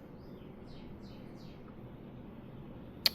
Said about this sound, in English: Hear the cardinals and the birdies outside?